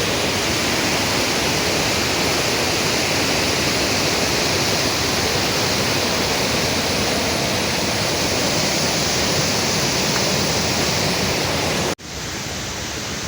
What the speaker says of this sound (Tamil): இப்போ அங்கேருந்து திறந்து விட்டனால தான் இப்போ வாட்டர் ஃபுல்லாக இங்கே இப்படி ஃப்ளோ ஆகுது.